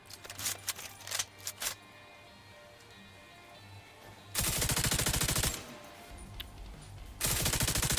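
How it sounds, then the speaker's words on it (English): Video game combat bursts with rapid machine-gun fire and explosions, loud and dense, in two long volleys after a stretch of scattered shots and a quieter, rumbling lull. "Explosions!"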